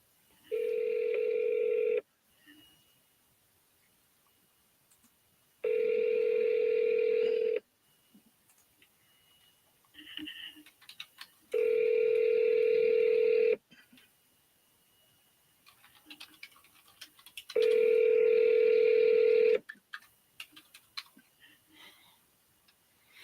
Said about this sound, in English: Let me call Tanya up.